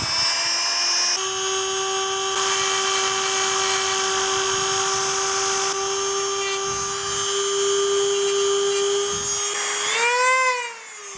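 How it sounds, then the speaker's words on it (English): A Dremel rotary tool cuts into a 12 volt adapter with a loud, close, steady high-pitched whine that holds for about ten seconds, then spins down and wavers at the end. "start the Dremel tool"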